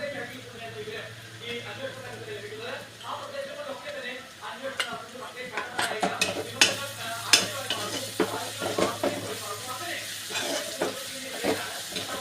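Onion and ginger paste fry in a pan for a chicken curry. A continuous sizzle sits under occasional stirring scrapes and clinks, and a voice speaks now and then.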